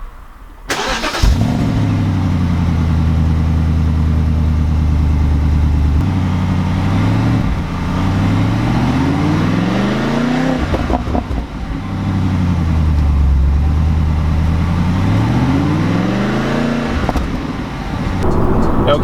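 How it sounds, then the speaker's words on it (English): Exhaust note of a 2009 BMW 650i convertible with the N62 V8 and a manual gearbox, starting up and then revving repeatedly with a loud, close, low rumble that rises and falls in long sweeps. "the best part about this engine, in my opinion, is the exhaust note. It's definitely got a nice low-end rumble to it."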